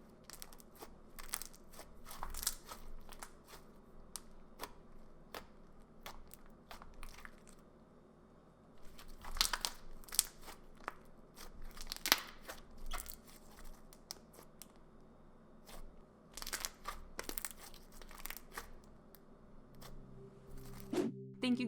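Crunchy slime being squeezed and played with up close, producing irregular bursts of crisp crackling and popping, some louder clusters among quieter squishes throughout.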